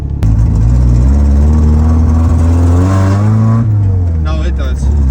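An abandoned Mazda Miata with a throttle fault runs loud and close during a lap, its engine droning and rising in pitch before dropping back, with a faint voice over it.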